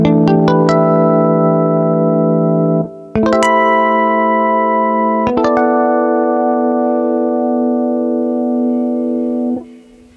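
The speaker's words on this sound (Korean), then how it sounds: "이번에는 일렉 기타에서 자주 쓰는 하모닉스 소리를 한번 들려드리겠습니다" A synthesizer patch plays electric guitar harmonics: three bright, bell-like sustained tones, each struck sharply and left to ring for a few seconds before the next, with a clean shimmering decay.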